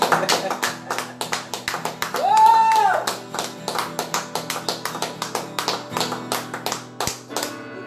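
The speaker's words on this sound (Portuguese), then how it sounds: "Você pode dar um forte aplauso ao Senhor?" A church congregation applauds during a worship service, steady rapid clapping throughout with a sustained tone rising briefly in the middle.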